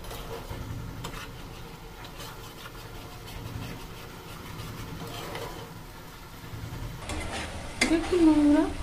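Spice paste and tomato paste for a Bengali pabda fish curry stirred in a pan, with a soft steady sizzle under scraping and knocks of the spoon that get louder near the end.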